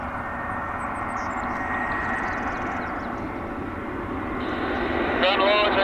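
Air India Boeing 777 jet engines taxiing at an airport in the early morning, a steady broad roar that swells toward the end with a rising whine, while radio talk is heard faintly underneath.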